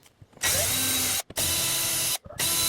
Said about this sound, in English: go and drill the holes out with a drill bit not too much bigger than the prongs